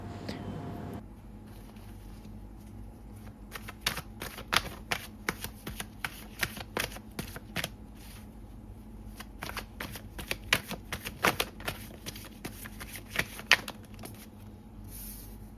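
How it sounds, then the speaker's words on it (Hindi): Tarot cards are shuffled close up, with a quick run of crisp, papery riffles and flutters that patter irregularly and stay fairly quiet, alone without speech. "यहाँ पे मैं सारी कार्ड्स निकाल रही हूँ, ग्रुप 1, ग्रुप 2, ग्रुप 3 की।"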